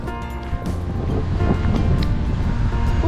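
Big, rough ocean waves crash and churn into white water below a sea cliff in Saipan on a windy day, a loud continuous roar with wind buffeting the microphone.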